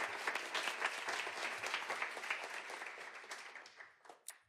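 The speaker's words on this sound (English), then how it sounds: "Big round of applause for all of you." A crowd applauds school superintendents at a New York City mayoral education announcement; the clapping starts full and steady, then thins and fades out near the end.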